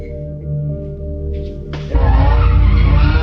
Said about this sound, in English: The impact even extended to the Bay Bridge, where cars were doing burnouts.